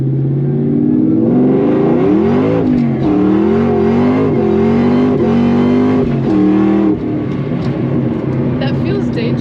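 A 2003 Ford SVT Cobra accelerates hard from inside the cabin, its engine droning loud and climbing through gear shifts, with people talking over the roar.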